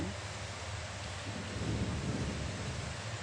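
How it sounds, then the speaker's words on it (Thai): Thunder rumbles low and sustained while steady rain hisses across the whole scene, building slightly louder partway through, with no talking in between. "ฟ้าร้องอยู่ฝนตก"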